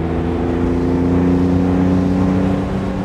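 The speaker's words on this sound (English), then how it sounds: "that's pulling from very low RPMs in third gear" A 1967 Aston Martin DB6 Volante pulls from low revs in third gear, a loud, close, steady engine drone with a deep rumbling tone that rises gently and holds.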